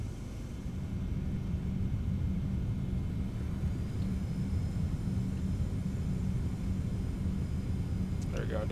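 Boeing 717 rolling out after landing in a flight simulator with manual braking applied: a steady, loud low rumble of engines and runway roar that holds throughout, with a faint brief sound near the end.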